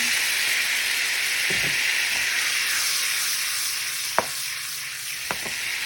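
Chicken wings sizzle steadily in a pan with mango habanero wing sauce, a constant frying hiss throughout with a few soft clinks of stirring.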